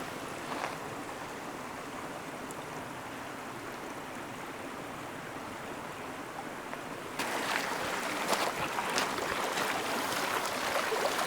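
Water trickles steadily in a canyon stream near a crossing on a hike to Seven Sisters Falls, a continuous soft wash that grows louder and more textured toward the end.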